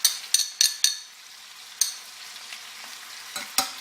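Grated garlic frying in a pan for Al Kabsa, stirred with a spoon in several sharp scraping strokes over a soft background sizzle, close up and without talk.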